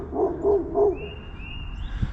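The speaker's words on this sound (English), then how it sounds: "My neighbor's dog is beautiful, but she just barks at everybody." The neighbor's dog, a female, gives three quick barks close by at a steady rhythm, followed by a thin high whine or squeak and faint background rumble.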